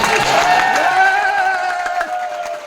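A crowd cheers and whoops loudly with some applause, the noise rising at first and then gradually fading over a few seconds.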